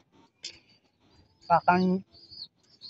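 A racing pigeon gives a brief, close, soft cooing call after a faint chirp, in a short quiet moment.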